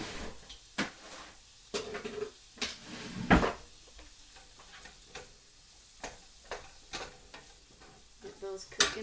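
Stuffed pepper tops cook in a pan with a soft background sizzle broken by sharp clicks and knocks of utensils against the pan at irregular intervals.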